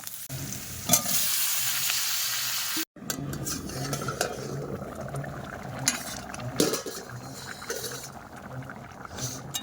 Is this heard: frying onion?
yes